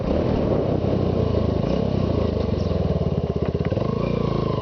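A motorcycle downshifting with rev-matching blips: a close, loud engine note pulses rhythmically and rises and falls through the gear changes, with no talk.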